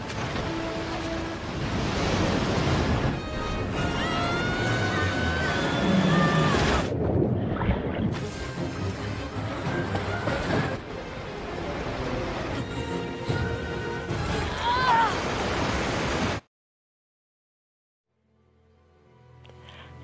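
Flood water rushing in an animated cartoon film, a loud churning surge of water and spray in bursts, then cutting to near silence before a faint rumble returns.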